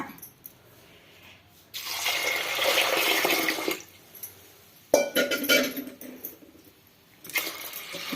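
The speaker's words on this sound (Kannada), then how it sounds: "ಇವಾಗ ನೀರು ಸೇರಿಸ್ಕೊಳ್ಳೋಣ" Water is poured onto washed chana dal in bursts, with a two-second splashing pour, a pause, then a sharper clink and more pouring and trickling, close and alone with no talk.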